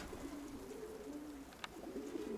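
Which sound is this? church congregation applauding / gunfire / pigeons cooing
pigeons cooing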